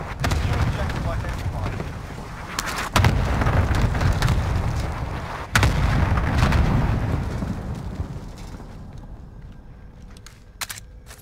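Cluster strike explosions in Call of Duty, a rolling series of heavy booms with sharp cracks around three and five and a half seconds, fading toward the end, alone with no talk.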